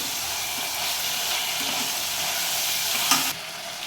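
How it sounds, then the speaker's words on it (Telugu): Ginger garlic paste fries in a pan for coconut milk rice, giving a continuous hissing sizzle with faint stirring scrapes. It ends with a brief clink before the sound cuts lower. No voice is heard. "అల్లం వెల్లుల్లి పేస్ట్ ఒక స్పూన్ సరిపోతుందండి ఇప్పుడు ఇంకొంచెం ఫ్రై చేసుకుందామండి"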